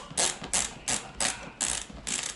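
A snowboard boot binding mechanism ratchets as it tightens, six evenly spaced bursts of sharp clicking about a third of a second apart, close and fairly quiet with no talk.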